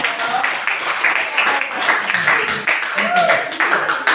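Classroom applause for the drawing group: a dense patter of many hands clapping, with pupils' voices talking over it.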